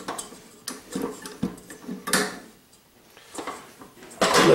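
Metal whisk being clicked onto a stand mixer, a series of sharp ticks, clacks and knocks at irregular intervals, close and fairly loud, with a short quiet stretch before a final louder clatter.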